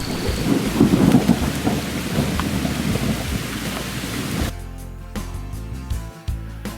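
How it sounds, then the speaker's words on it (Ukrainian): A thunderstorm breaks over a fishing trip on the Psel river: heavy rain pours steadily with loud rumbling thunder, then the downpour thins into a sparser patter with scattered sharp drops and cracks. "Ого, ось вам, друзі, і гроза."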